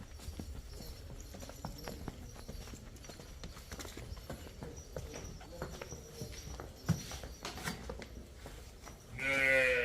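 Hooves clop and shuffle steadily around a dairy farmyard where cows and heifer calves are for sale, then a cow lets out a loud, close moo right at the end.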